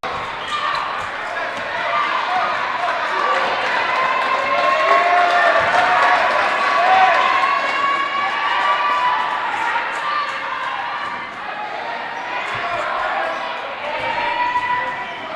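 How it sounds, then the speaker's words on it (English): A crowd of fans cheers and shouts at a school basketball game between St. Thomas More and MCSCS, a dense, sustained roar swelling in the middle, with a commentator talking over it. "Their fans are still into the game, still cheering their team on."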